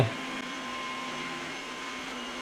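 A MOVA P70 Pro Ultra robot vacuum mop runs with a steady, mid-pitched motor whir humming continuously at moderate volume, with a faint higher whine running through it and no talking.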